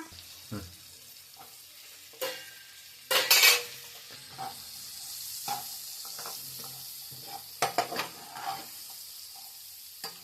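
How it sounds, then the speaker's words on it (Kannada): Carrot and capsicum stir-frying in a pan while pasta is being made, a quiet steady sizzle broken by sharp scrapes and clinks of a utensil against the pan, with one louder burst of sizzling near the start. "ಇವಾಗ ಕ್ಯಾರೆಟ್ ಕ್ಯಾಪ್ಸಿಕಮ್ ಹಾಕೋಣ."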